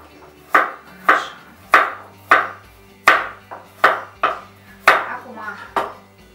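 A knife chops carrot on a table in about a dozen crisp, evenly spaced thuds, each a sharp close hit that fades quickly, with quiet pauses between strokes.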